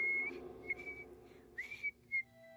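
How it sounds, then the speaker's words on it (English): An NPC in the video game Morrowind whistles a tuneless melody in short, thin phrases with gaps between them, heard fairly close and clear with no talking over it. "Stop whistling."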